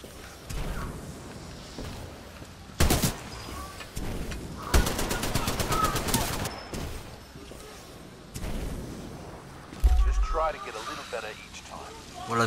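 Heavy-weapon gunfire in the video game Titanfall 2 comes in several sustained rapid bursts with a booming impact near the end, while someone talks in French throughout.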